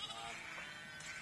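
A single faint, wavering sheep bleat, heard from a distance over a noisy background.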